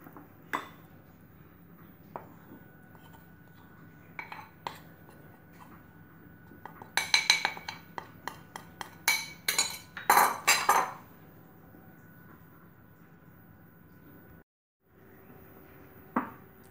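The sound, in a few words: mixing green velvet cake batter in a bowl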